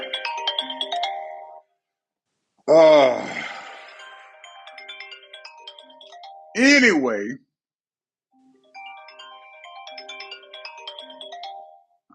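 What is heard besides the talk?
mobile phone ringing with incoming calls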